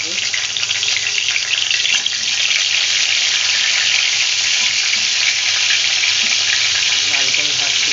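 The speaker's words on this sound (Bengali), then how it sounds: "তো আমি এখন ফুলকপিগুলোকে ভেজে নেব আগে।" Cauliflower florets fry in hot oil in a pan, a dense steady sizzle holding loud and close for the whole stretch with faint clatter mixed in and no talking.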